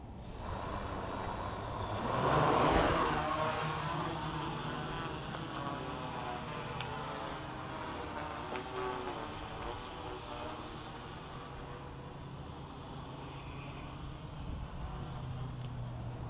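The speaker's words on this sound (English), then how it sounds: "I'm going to give it a little throttle. It's going to take off" A Pixhawk quadcopter takes off and hovers, its rotors producing a steady, insect-like buzz that swells briefly near the start and then holds at moderate distance, with no talk.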